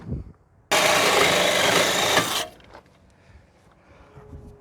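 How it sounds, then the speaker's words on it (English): A Sawzall reciprocating saw cuts through a snapped-off exhaust on a Datsun 240K, a loud, steady rasping burst of under two seconds, close by, then stops, leaving only faint workshop noise. "we'll just get my Sawzall in there and we'll trim that off"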